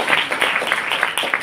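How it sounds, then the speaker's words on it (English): Audience applause at a live motivational event, a dense steady patter of many hands clapping together at moderate loudness, sustained with no voices on top. "So give yourself a big round of applause."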